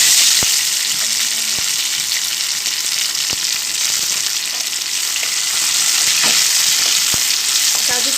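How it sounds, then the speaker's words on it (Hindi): Cashews and raisins fry in a pan of hot oil with cloves and cardamom, a steady loud sizzle with occasional clicks of stirring, no voices. "काजू किशमिश को अच्छे से फ्राई कर लूँगी"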